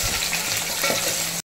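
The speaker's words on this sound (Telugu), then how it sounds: "ఉల్లిపాయ వేసుకొని ఒకసారి అలా కలుపుకోవాలి" Onions fry in hot oil with dried red chillies and cumin in a pan for a dried prawn and tomato curry, a loud, steady sizzle with a brief stir, then an abrupt cutoff.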